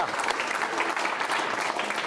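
A small group claps in a lively burst of applause, close and steady for about two seconds, with light voices mixed in.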